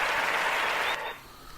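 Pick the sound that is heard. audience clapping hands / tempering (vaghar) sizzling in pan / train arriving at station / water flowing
audience clapping hands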